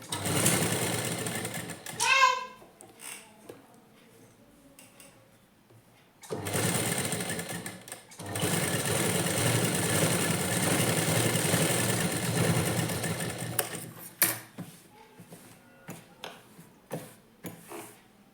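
A sewing machine stitching the lining of a blouse back piece runs in loud, close bursts, a short start early, then a long steady run of several seconds, with pauses and brief speech between runs.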